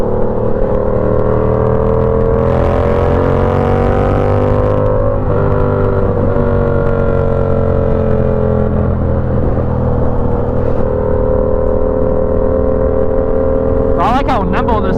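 Yamaha R7 700 cc motorcycle engine droning steadily at speed during a ride, a loud, continuous near-field hum with shifting harmonics and wind noise, ending with a brief higher whine.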